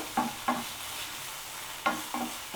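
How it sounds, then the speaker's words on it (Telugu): Garlic cloves frying in a pan with mint and coriander, a soft continuous sizzle broken by four short scraping stir strokes, close by with no voices. "ఈ ఫ్రైలో వేసి జస్ట్ 1-2 నిమిషాలు ఫ్రై చేస్తే సరిపోతుందండి"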